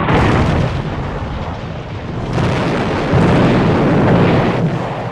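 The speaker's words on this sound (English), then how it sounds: "The British open fire." Heavy naval gunfire as British warships fire on French battleships, a dense continuous roar of booming explosions and rumbling blasts, loud and close throughout with no clear gaps.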